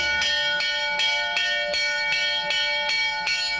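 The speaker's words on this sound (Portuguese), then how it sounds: "Toca o sino, que chama para a prática conhecida como puja" Temple bell at dawn calling Buddhist practitioners to puja, struck in a fast, even series of bright ringing strikes that overlap into a sustained shimmer.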